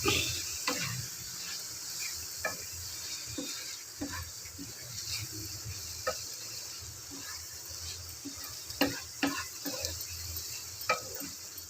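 Omelette masala gravy is stirred in a pan over a low, steady sizzle, with repeated scrapes and knocks of a spoon against the pan at an irregular rhythm, heard close.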